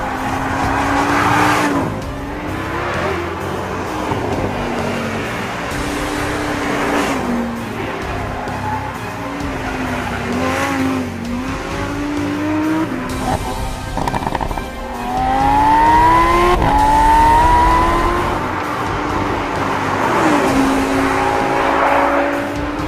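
A Lamborghini Huracan screams around a UK test track, its engine rising and falling through hard revving and gear changes, loud and close throughout, with some tire noise and no voices.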